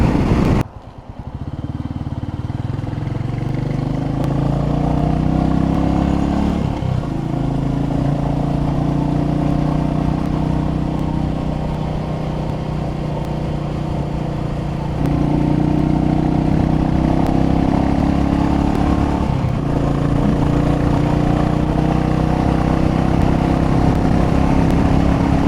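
A Royal Enfield Meteor 350cc motorcycle cruises under the rider, a steady loud single-cylinder drone with wind rush and a couple of gear changes and brief throttle dips.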